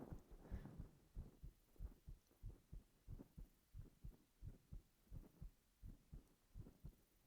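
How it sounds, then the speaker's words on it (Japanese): A fast human heartbeat is heard up close through the chest, with quick, evenly spaced soft thumps in a steady double rhythm over a low muffled hum. The beats are quiet and carry on alone without talking. "心音早いよって。"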